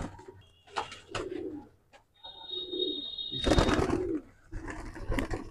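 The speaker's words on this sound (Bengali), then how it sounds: "এবার টিবলার পায়রা" Tippler pigeons coo softly in a loft, with several low, rounded coos at close range, brief chirps, and a thin steady whistle in the background.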